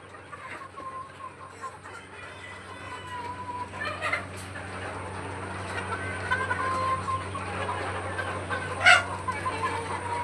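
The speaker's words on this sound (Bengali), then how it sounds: "অনেক রকম মুরগি মোরগ আছে নিচের" A mixed flock of hens and roosters clucks softly nearby, scattered low calls over a steady background hum, with a couple of sharper, louder squawks standing out.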